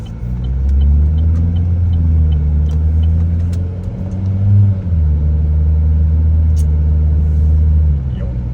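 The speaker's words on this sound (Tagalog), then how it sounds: "Honda Civic." A Honda Civic car drives along with a steady low engine rumble and road noise throughout, a brief surge in engine pitch midway, close and loud, with people talking over it.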